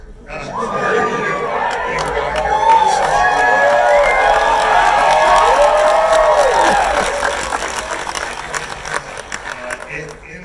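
A large audience at an Obi-Wan Kenobi event watch cheers and shouts loudly in a sustained roar that swells and holds for several seconds before fading into scattered chatter.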